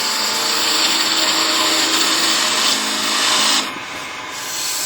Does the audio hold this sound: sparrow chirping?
no